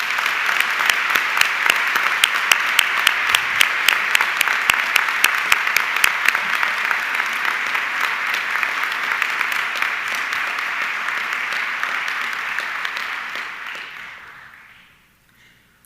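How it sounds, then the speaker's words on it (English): Sustained audience applause at a university presidential inauguration ceremony, dense steady clapping from a large crowd that holds for most of the stretch before fading out near the end. "Please join me in a round of applause for all they have done."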